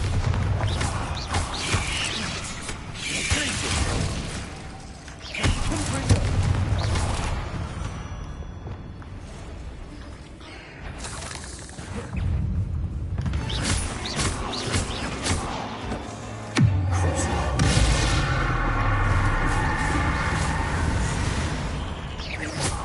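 Explosive magic blasts and crashing debris from a Bombarda spell in the Hogwarts Legacy game, set in a spider-infested lair. Loud, dense bursts and rumbling impacts come in waves, with a sharp blast near the end, and no talking.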